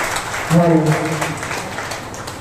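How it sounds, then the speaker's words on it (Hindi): At a public stage event in Munger, a crowd gives a rousing round of clapping to welcome a police superintendent, the steady applause running throughout while a voice briefly speaks over it. "एक बार जोरदार तालियों से स्वागत करें।"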